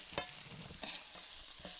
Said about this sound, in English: I'm going to saute these down first.